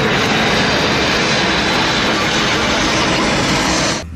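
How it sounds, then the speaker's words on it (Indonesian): A toy airplane gives off a loud, continuous engine roar that holds steady, then drops off abruptly at the end. "This is plane."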